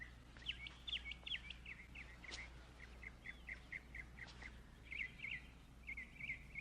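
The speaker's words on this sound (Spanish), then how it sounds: "puedes escuchar el pájaro" A bird chirps in a film scene, giving a string of quick, high, repeated tweets in short bursts over a faint steady low hum.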